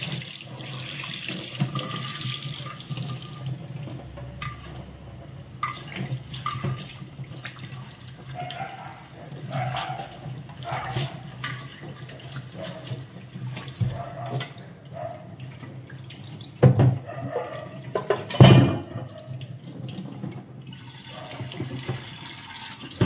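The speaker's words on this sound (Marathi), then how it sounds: "आता आपण माठ पुन्हा एकदा स्वच्छ धुवून घेऊ।" Tap water runs and splashes while an old clay water pot is rinsed, a steady close stream with sloshing and a couple of louder knocks and splashes near the end.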